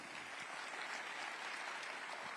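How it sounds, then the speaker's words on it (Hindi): Thunderous audience applause at the Rising Bharat Summit 2025, a dense, even roar of many hands clapping that holds at full strength throughout the short stretch. "जोरदार तालियों की गड़गड़ाहट"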